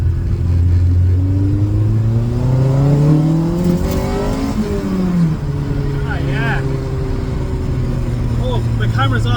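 A Mini's engine revs up in a quick throttle blip, the pitch climbing steadily and then dropping back to a steady idle. It is close and loud, with no spluttering.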